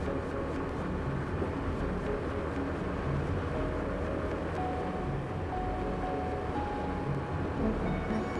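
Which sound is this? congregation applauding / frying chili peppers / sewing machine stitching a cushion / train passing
train passing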